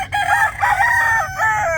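A gamefowl rooster, a Boston Esculin broodstag with a straight comb, crows loudly and close at a farm, giving several drawn-out crows in quick succession, with a low hum from the farm in the background.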